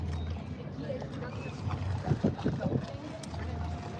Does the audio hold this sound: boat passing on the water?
yes